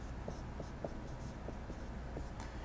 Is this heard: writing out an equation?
yes